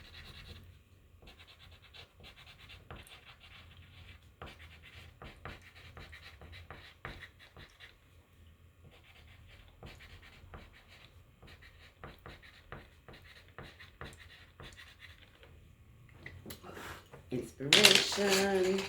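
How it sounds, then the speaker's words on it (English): Pen strokes scratching across paper as words are written by hand, a steady run of short scrapes with brief pauses, close and fairly quiet, ending in a louder burst of handling noise. "I'm just gonna write a bunch of words that I jotted down and notated."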